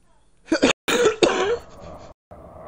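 A person coughs twice in quick succession, then clears the throat in a longer, rasping burst and a softer follow-up, close and loud with no other sounds.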